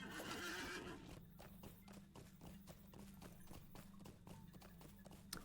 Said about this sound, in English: I think our horse should be running faster now.